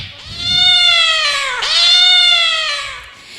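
A cat gives a long, drawn-out meow that dips in pitch midway and then rises into a second plaintive wail, loud and close with no talk over it.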